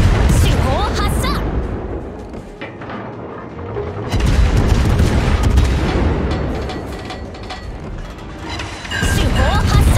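Main battery guns of a warship firing in World of Warships clan battle, deep rolling booms in two or three heavy waves over continuous low rumble, with brief speech mixed in.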